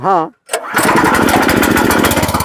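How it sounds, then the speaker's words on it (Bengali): A self-start power tiller engine is pulled over by recoil. It catches after a brief voice and a short gap, then settles into a loud, steady, close running chug. "সুইচটা দিয়ে দিলি হ্যাঁ দিয়ে দিলি ঠিক রিকয়েলে স্টার্ট মারছি"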